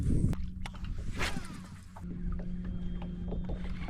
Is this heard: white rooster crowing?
no